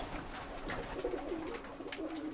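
Pigeons kept indoors on a small home farm coo steadily, a soft, close, continuous warbling murmur of several birds eager for food.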